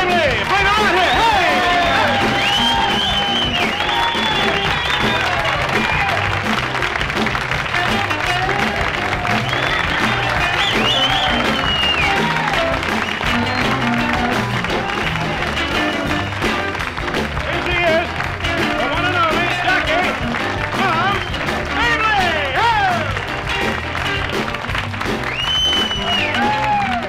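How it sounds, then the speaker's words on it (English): Audience applause and whoops greet comedian Moms Mabley as she is brought on stage at a 1969 live show, sustained loud clapping with cheers over bright music, a voice calling out above the crowd. "A great big round of applause to introduce to the stage tonight the one and only Jackie Mom Mabley."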